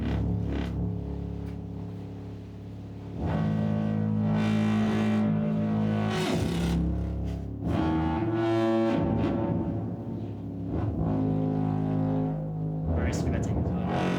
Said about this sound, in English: if I push further, I have distortion and reverberation